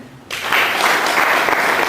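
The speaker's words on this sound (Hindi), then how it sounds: "तालियां" A live audience bursts into applause after a brief quiet moment, a dense, steady clatter of many hands clapping that carries on to the end.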